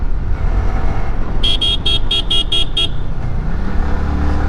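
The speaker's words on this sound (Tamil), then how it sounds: "ஹார்ன் அடிச்சுக்கலாம்" A vehicle horn on a road gives a quick run of about six short, loud toots over the rumble of traffic and engine noise.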